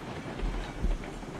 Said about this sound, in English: actually, this train has horrible brakes